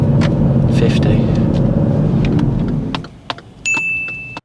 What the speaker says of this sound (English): He brings the clutch pedal up too quick and stalls.